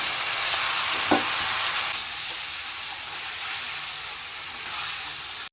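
Marinated chicken frying in hot oil in a wok gives a loud, continuous hissing sizzle close up, with one brief clink early on and no talking.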